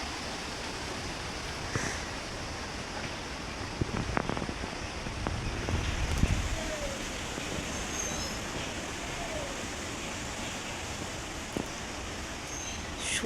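Strong wind whooshing in a steady, faint rush before an early-morning storm, with a few gusty swells and bumps partway through.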